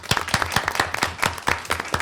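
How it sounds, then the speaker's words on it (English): An audience at a school board of education meeting claps for the school nutrition staff. The individual hand claps are distinct and fairly sparse and uneven, suggesting a modest group at moderate distance with no talking. "Please join me in giving our school nutrition a round of applause."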